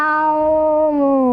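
A human voice imitating a cat's meow, in the manner of a cartoon snail: one long, loud, drawn-out nasal meow with a slowly falling pitch, heard alone.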